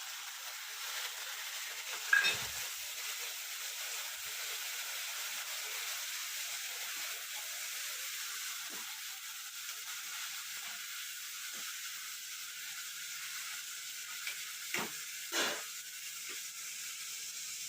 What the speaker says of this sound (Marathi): थोडा वेळ फ्राय करायचं.